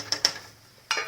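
A spoon stirs water and white rice in a cooking pot, making a few sharp metallic clinks against the pot: two quick taps, a pause, then another clink.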